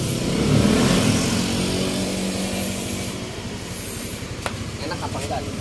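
A Yamaha Lexi 125 scooter with an upgraded exhaust and CVT revs up close by, its engine drone swelling loudly and then easing off, steady and continuous throughout.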